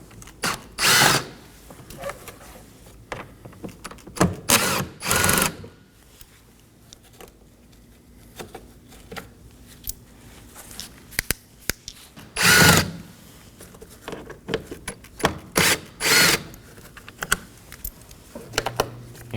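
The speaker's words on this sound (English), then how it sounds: "locate our four T30 screws on each side, and we're going to remove these as well" Power driver with a T30 bit backing out screws from a Ford Transit Connect cowl, repeated short whirring bursts up close separated by pauses and light handling clatter.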